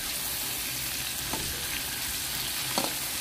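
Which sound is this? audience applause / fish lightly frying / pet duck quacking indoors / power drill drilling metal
fish lightly frying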